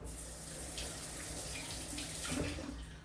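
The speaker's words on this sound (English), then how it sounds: "Let me wash my apple real quick." Tap water runs steadily over an apple being rinsed at a sink, a close continuous splashing gush with slight shifts as the fruit is turned.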